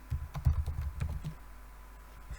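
Fast keystrokes on a computer keyboard while entering code for a first component in an app.js file, a close, quick run of clicks that thins out toward the end, with no talking.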